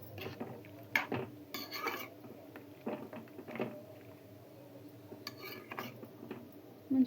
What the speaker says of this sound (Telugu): కొంచెం ధనియాల పొడి, కొంచెం గరం మసాలా, ఇవైతే వేసుకొని మంచిగా కలుపుకుందాం మళ్ళీ ఒకసారి